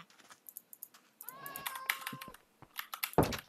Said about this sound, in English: Since when do cats spawn here?